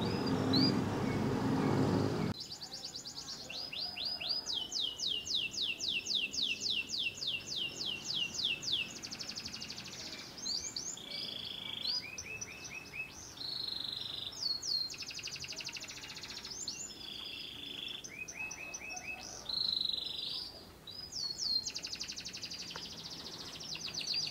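Male songbirds sing near breeding females, repeating bright chirping phrases close by in quick series. A short burst of noise comes at the start.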